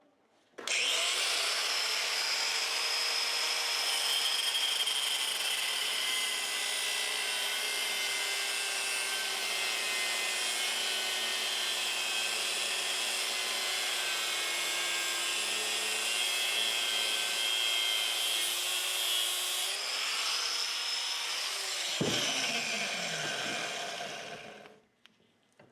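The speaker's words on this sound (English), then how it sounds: "let's get her mounted up in the vise, cut her apart, and we'll see why it's so noisy" A noisy bearing held in a vise is cut apart with a power tool, giving one loud, continuous, harsh grinding roar that runs for about twenty seconds and then winds down and fades out.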